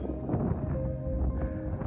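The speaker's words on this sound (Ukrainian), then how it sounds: "Моросить маленький дощ і дуже холодний вітер." Steady, blustery, cold wind with light drizzle rushes across the microphone on Monte Berlinghera during a storm, a low continuous roar with gusts rising and falling throughout.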